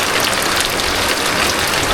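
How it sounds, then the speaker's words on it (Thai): Steady rain pours down in a constant dense hiss, loud and close, with no pauses. "ฝนเอ้ยฝน"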